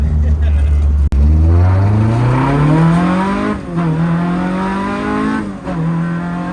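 A light, torquey car in Japan accelerates hard from close by, its engine rising in pitch through gears with brief drops at shifts, loud and continuous.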